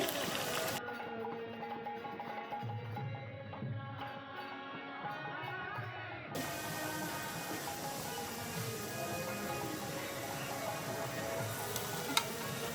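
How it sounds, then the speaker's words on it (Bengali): Batter-dipped samosas deep-frying in oil, a soft steady bubbling sizzle that runs continuously, fairly quiet and unbroken. "বাকিগুলো এভাবেই ভেজে নিচ্ছি"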